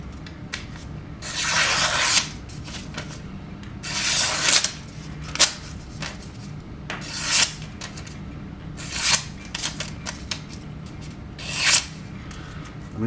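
A Northwoods Madison Barlow pocketknife slicing through paper, a series of crisp rasping swishes, about six separate cuts spaced a second or two apart, close and fairly loud over a quiet background.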